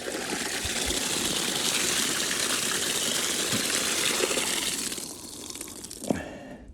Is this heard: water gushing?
yes